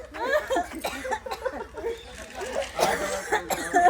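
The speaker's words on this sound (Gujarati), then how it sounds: "હસીથી ખાંસી ઉપડી ગઈ છે" A woman coughs repeatedly after a fit of laughter, with short, breathy, laugh-tinged coughs close to the microphone and some voices nearby.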